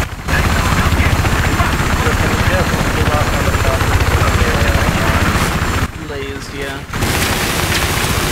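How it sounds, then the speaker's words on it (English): Battlefield 3 helicopter thumping loud and steady through most of the stretch under heavy gunfire, briefly dropping away near the end before returning, with someone talking over the game sounds. "Helicopter on the left there"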